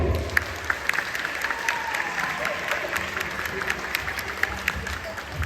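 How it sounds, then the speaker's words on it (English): Guests at the Clyde graduation day ceremony applaud the graduates, a moderate, continuous patter of many hands with a few sharper individual claps standing out. "Congratulations, dear graduates. Round of applause."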